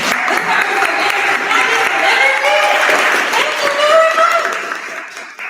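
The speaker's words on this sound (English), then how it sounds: "Give yourselves a round of applause." An evening audience at a marketing panel event bursts into loud, dense applause that holds steady and then tapers off near the end, with a few voices mixed in.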